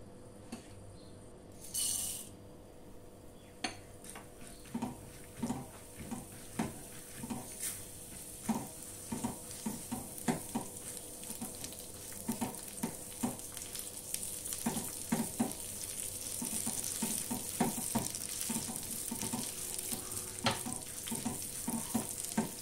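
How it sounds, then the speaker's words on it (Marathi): Two kinds of dal roasting in hot oil in a wok, heard as a steady close sizzle with repeated scraping stir strokes that grow busier over time, no talking. "एका कढईत तेल तापत ठेवलेलं आहे, त्यामध्ये ह्या दोन्ही डाळी आपल्याला छानपैकी भाजून घ्यायच्या आहेत।"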